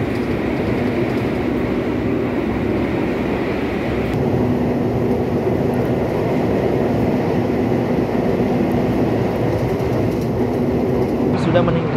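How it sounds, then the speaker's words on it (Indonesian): Inside the passenger cabin of the Mutiara Selatan night train in Indonesia, a continuous loud rumble and rattle of wheels and carriage runs throughout, with faint muffled voices beneath. "kereta api Mutiara Selatan melanjutkan perjalanannya kembali dan selanjutnya akan berhenti di kota tujuan saya, yaitu Yogyakarta"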